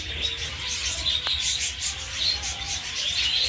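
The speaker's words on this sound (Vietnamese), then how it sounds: "Đây là trại chim yến của bà Tài ở thành Thái An" A flock of budgerigars at a bird farm keeps up a dense, continuous chatter of high chirps and tweets, close and fairly loud, with no pauses.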